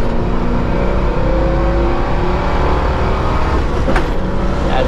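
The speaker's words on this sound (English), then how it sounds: "Gives me another reason to go through the gears one more time." A 1971 Ford Mustang Boss 351 engine pulls hard through the gears on a test drive, a loud continuous roar with steady drone and a brief rise near the end, no voices over it.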